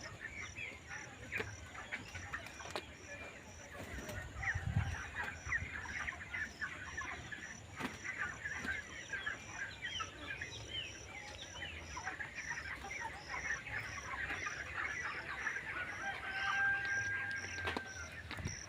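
Chickens at a large broiler poultry farm cluck and call in a faint, distant, busy chorus, with scattered knocks and a steady mechanical hum running underneath throughout.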